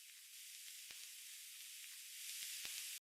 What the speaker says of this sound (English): It's just a nice bed of vinyl noise for everything to sit under.